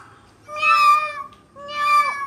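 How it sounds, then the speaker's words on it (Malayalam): Two drawn-out cat meows, close and clear, separated by a short pause. "നമ്മുടെ പൂച്ച എങ്ങനെ കരയാ"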